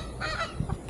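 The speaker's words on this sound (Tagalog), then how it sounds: "Kaya pakain namin ng kamote yung mga manok." Chickens being fed sweet potato cluck and squawk in short bursts over a steady rustling background, with a few low thumps; several birds sound close by, at a campsite.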